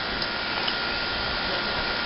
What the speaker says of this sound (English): Getting some power tool action here.